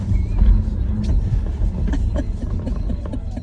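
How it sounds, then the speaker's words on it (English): A 2023 Kia EV6 GT electric car drives in sport mode with its GT function on, over a wet road, giving a steady low road and motor rumble with scattered faint ticks and knocks, no voices. "EV6 GT in the sport drive mode with the GT function enabled."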